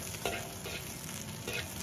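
Ginger and garlic slices stir-fry in a wok beside a pan-fried carp, giving a soft, quiet sizzle broken by a few scraping stirs of the spatula.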